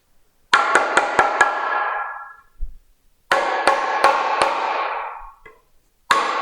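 Sharp, loud hammer or chisel blows strike a portable work station, a quick burst of four or five impacts, a pause, another run of four hits, then one more, each ringing briefly before fading.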